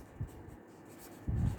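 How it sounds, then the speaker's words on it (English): A pen scratches across paper while a maths answer about dividing sandwiches into equal parts is written out, with quiet, close strokes and two firmer bursts of writing. "So I will write Arya will divide"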